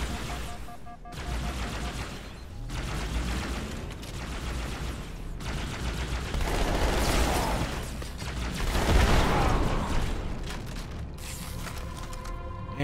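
Sustained gunfire from a weapon in the video game Halo 2, dense bursts and shots running continuously over a busy, loud game soundscape with explosions, no talk.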